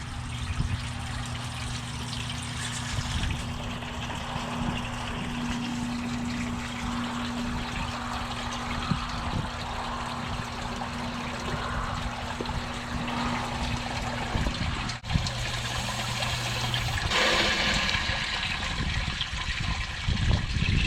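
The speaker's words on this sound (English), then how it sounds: "There you can see the water coming in from the footer tiles." Water trickling and flowing from footer drain tiles into a crawlspace sump pit, a steady close splashing stream with a constant low mechanical hum underneath, continuous throughout without talk.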